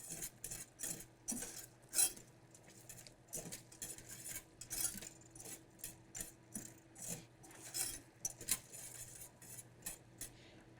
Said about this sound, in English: while I am whisking it, I'm not over whisking it because I don't want those crystals to form on the side of the pot